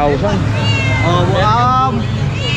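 A cat for sale at an outdoor market in Obando meows in drawn-out, wavering cries, loud and close, amid crowd chatter and background noise.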